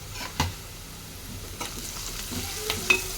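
Village-style broad bean curry with onions and turmeric is stirred as it cooks in a pan. A few faint, scattered scraping strokes sit over a gentle sizzle, and no one speaks.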